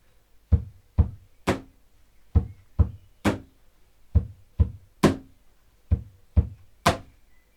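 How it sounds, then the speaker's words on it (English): Two kick drum beats and one snare hit repeat in a steady pattern, with low thuds followed by a brighter crack, played four times at an even moderate tempo. "We're going to do 2 kicks and 1 snare and it will sound like this."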